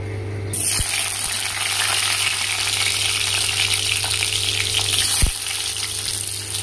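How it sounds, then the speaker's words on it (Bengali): Steady, loud sizzling of potatoes frying in hot oil in a wok, a continuous bubbling hiss with a couple of faint knocks, no talking. "এবার কড়াইয়ে তেল দিয়ে দেবো, আলুগুলো ভেজে নেব।"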